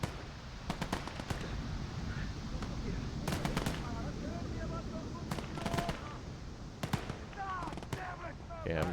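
WWII machine guns firing in bursts during a D-Day battle in the Liberation real-time strategy game, with rapid staccato rattles repeating over a dense rumbling combat backdrop and someone talking over it.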